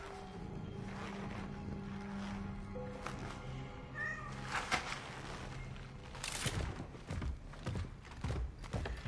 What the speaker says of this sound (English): Are you my kitties? Don't you meow on me.